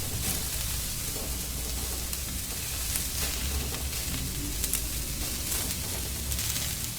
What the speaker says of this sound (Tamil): இப்படி கடாயில் பரவலாக பாவக்காவை வைத்தால் சீக்கிரமாக வதங்கிவிடும்.